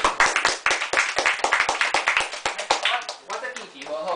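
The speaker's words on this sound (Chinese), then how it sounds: "对吼，掌声鼓励" A small audience at a talk on Taiwanese temple stories claps in distinct, sharp bursts, close and uneven rather than a full roar, tapering off as voices begin to talk near the end.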